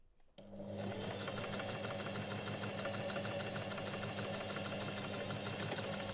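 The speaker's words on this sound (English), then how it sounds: "sew a straight stitch with a 1 cm seam allowance" A home sewing machine runs a straight stitch along a 1 cm seam allowance on robe fabric, a steady close mechanical whir that starts after a brief pause and holds without a break, with no talk.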